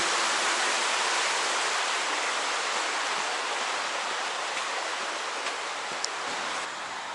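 A river flows steadily in a mountain valley near a town, a continuous broad rushing wash with no talk over it.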